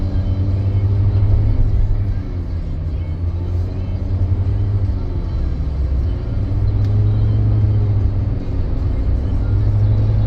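A 2013 Nissan Cube driving, a steady low engine and road rumble from inside the cabin with slight rises as it pulls ahead, loud and continuous with no clear talk.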